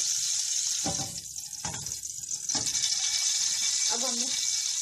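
Oil is poured into a pot while chicken biryani is being prepared at home, giving a steady close hiss with a few soft knocks and clatters from the pot.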